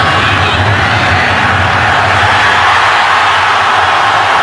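A loud, continuous roar of a stadium crowd cheering fills an NFL video game broadcast of a Green Bay kick, a steady dense wash of voices with no breaks.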